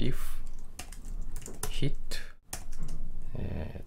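Java code typed on a computer keyboard for a 2D game project, scattered key clicks heard close up beneath someone talking throughout.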